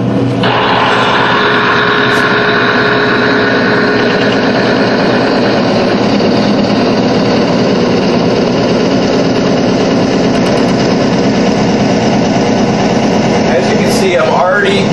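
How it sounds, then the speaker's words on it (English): An electric motor runs smoothly under an oil load test, with a loud, steady mechanical drone and hum and no squealing, holding constant from start to finish. "There's no additional load on the motor. And it sounds different too. It sounds smooth. There's no squealing."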